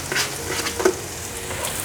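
Shiitake mushrooms stir-frying in a hot pan with bubbling oil for a vegan home-style dish, a steady close sizzle with a few soft scrapes and crackles.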